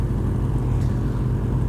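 A 2016 Yamaha FZ-09 motorcycle being ridden, its engine a steady low drone with road and wind noise, continuous and fairly close.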